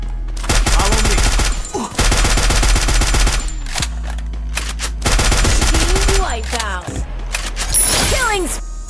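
M10 gunfire in Garena Free Fire: loud rapid automatic bursts in long strings, broken by short pauses, while players talk over the shooting.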